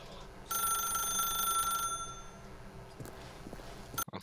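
A telephone ringing in the video game The Stanley Parable, a single bright bell burst of under two seconds that cuts off and leaves quiet room tone, followed by a few faint clicks.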